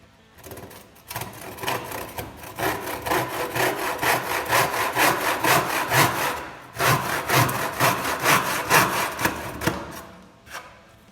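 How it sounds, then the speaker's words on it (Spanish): A rip hand saw cuts through wood in steady back-and-forth strokes, close and loud, with a brief pause mid-cut before the rhythmic rasping resumes. "Vamos a hacer el corte inicial con el serrucho de tendido."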